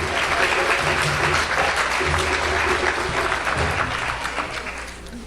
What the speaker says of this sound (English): Let's give a round of applause to our performers